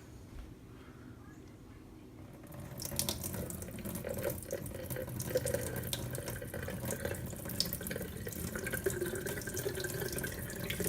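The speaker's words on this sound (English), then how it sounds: "we're going to want to empty the water that's in here" Water pours out of a glass jar of sprouting broccoli seeds, beginning after a quiet start and continuing as a steady, close splashing stream into a sink.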